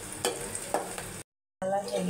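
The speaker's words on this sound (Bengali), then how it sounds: "আমি শুকনো মরিচ আর কাঁচামরিচ দিয়ে দিয়েছি বেশি করে।" Dried and green chillies frying in oil in a pan for a potato and bottle gourd stir-fry, a close hiss of sizzling with a couple of stirring scrapes, cut by a brief silent gap before the sizzle resumes.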